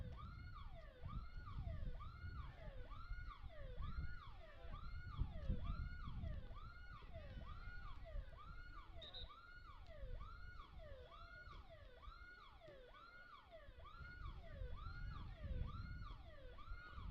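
An electronic alarm wails at an amateur cup championship soccer match venue, a steady repeating whooping siren cycle that continues unbroken and moderately loud over faint crowd and field ambience.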